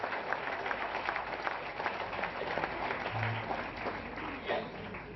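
Audience applause welcoming a guest at a formal legal event, a steady, moderately distant crowd clapping throughout with a faint voice under it.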